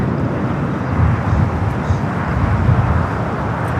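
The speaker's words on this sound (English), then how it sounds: "Air France flight 21 heading back to Paris." An Air France passenger jet flying at LAX gives a loud, steady broadband engine roar, continuous throughout without clear talk.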